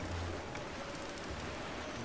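Steady rain hiss falls across the open world of Breath of the Wild, a broad even wash of patter with a low rumble beneath, continuous and moderately loud with no talking.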